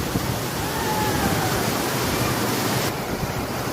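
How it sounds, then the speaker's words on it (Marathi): Vyaghreshwar waterfall at Manche, Devgad, Sindhudurg in the Konkan, in strong, heavy flow, gives off a steady, dense roar of falling water that holds evenly loud, close and unbroken throughout. "प्रवाह म्हणजे जोरदार प्रवाहित झाला आहे धबधबा. बघा प्रचंड असा प्रवाह आहे सध्या."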